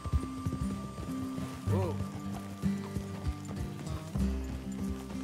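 Horses clop along in the Red Dead Redemption 2 video game, hooves beating a steady rhythm under game music and voices, with a brief whinny partway through.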